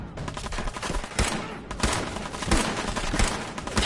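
Rapid, loud gunfire from a pipe pistol in the Fallout 4 video game, dense overlapping shots in bursts with a brief lull partway through.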